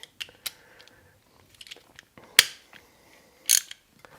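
A torque tool loosening the bolts on a Power2Max bike power meter, heard as close, sparse metallic clicks and ratcheting snaps, with two sharper, louder cracks as bolts break free.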